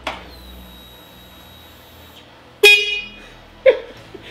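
Horn on a Harley-Davidson Road King build under test, giving two short, loud honks about a second apart, close by in a quiet shop with no talking.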